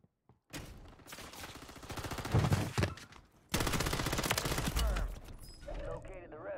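Gunshots in Call of Duty Warzone on Rebirth Island: long bursts of rapid automatic fire, loud and close, broken by a brief pause, then another sustained volley, with voices talking near the end.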